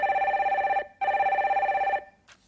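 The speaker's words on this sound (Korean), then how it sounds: "첫 번째 전화 연결할게요" A telephone rings while a call is being connected, two loud electronic ring bursts of about a second each separated by a short gap, with no voices.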